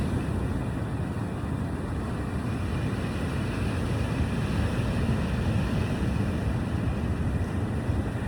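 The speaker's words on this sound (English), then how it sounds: "some of these waves are really crashing a little bit closer" Ocean waves crash on a tropical shore as a steady, dense roar of surf, continuous and loud throughout, mixed with broadband wind buffeting with no clear individual breaks.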